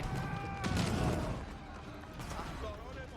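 Cannons fire in an Age of Empires IV late-game 1v1 battle between Rus and Delhi, with booming blasts over dense clatter of combat that keeps going throughout.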